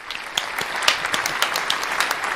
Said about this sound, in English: So, Corey, can you give yourself a round of applause?